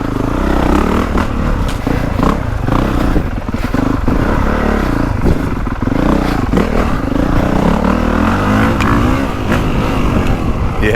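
A 450cc dirt bike ridden hard on a woods loop, its engine loud and close, revving and surging continuously with clattering over rough ground.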